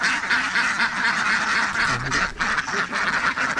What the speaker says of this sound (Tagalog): papakawalan po natin yung ating mga malalaking mga itik